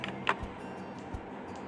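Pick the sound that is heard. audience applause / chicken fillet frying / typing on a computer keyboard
typing on a computer keyboard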